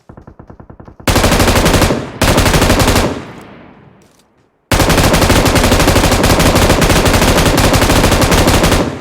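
Automatic gunfire in the PUBG battle royale game: long, loud, continuous machine gun bursts, a short pause and a fading tail, then another sustained volley, with no talk.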